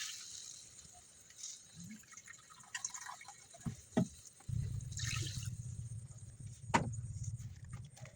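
Water is added again to a pot of sardines and misua: scattered drips and small splashes at first, then a fuller, steady pour near the mic in the second half.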